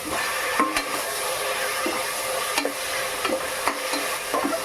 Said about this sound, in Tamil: தக்காளி நல்லா ஃப்ரை ஆகும்